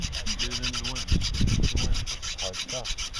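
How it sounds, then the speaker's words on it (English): A hand drill bores into hard wood with a steady, rhythmic rasping grind that rubs back and forth close by, and a few faint vocal sounds sit underneath. "Let's see what you can do with this hand drill"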